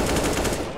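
Gunshots in Counter-Strike on de_Dust2, a rapid burst of loud, close rifle fire packed into under a second.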